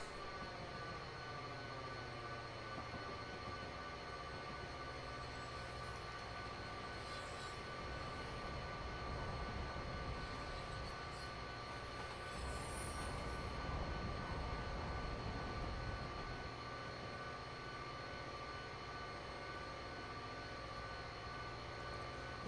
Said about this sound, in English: is the end of that train gonna make it out of the tunnel before we get into it?